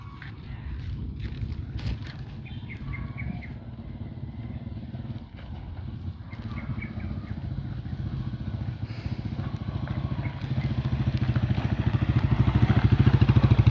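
A motorcycle engine idles and revs steadily, its low rumble growing slightly louder toward the end, with wind buffeting the microphone.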